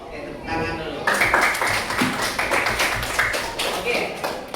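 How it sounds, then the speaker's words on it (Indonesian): A school class claps hands together at a teacher's prompt, starting with a few scattered taps and then breaking into brisk, fairly close group clapping that continues steadily while voices chatter over it. "Oke, tepuk tangan dulu."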